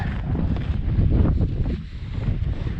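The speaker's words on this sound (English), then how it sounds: "it's windy out" Loud, gusty wind buffets the microphone continuously outdoors on a cattle farm, producing a heavy low roar with shifting surges and no other clear sounds.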